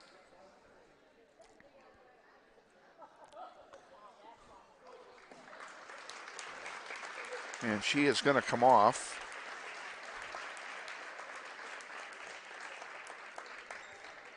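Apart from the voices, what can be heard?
crowd applauding a basketball player leaving the game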